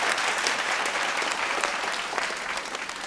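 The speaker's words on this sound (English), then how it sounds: "A round of applause." An audience at a vocal battle event applauds steadily, a dense wash of clapping that holds evenly and tapers slightly toward the end.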